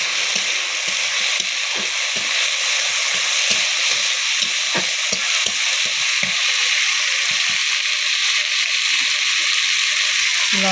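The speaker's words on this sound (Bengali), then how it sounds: "একটা আলু পুই দিয়েছিলাম। এটাকে নাড়াচাড়া করে নেব।" Potato and Malabar spinach fry in a pan, sizzling steadily and loudly, while a spatula stirs with frequent scraping knocks and soft wet sloshes.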